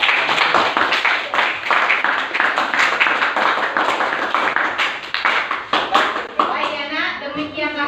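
A classroom of students claps during a teaching session, quick irregular hand claps with children's voices mixed in, ending as speech and a chattering voice take over.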